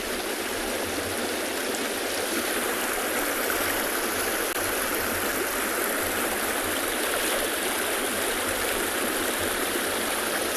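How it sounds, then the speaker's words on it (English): Stream water rushing down a small rock face beside a cement crossing on a safari reserve, a steady loud broadband roar and splash with no pause, near and continuous. "the water's coming down at quite a pace"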